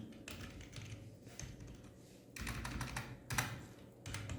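Keys clatter on a computer keyboard as a short folder name is typed, in quick bursts of close, crisp clicks separated by brief pauses, with no one talking.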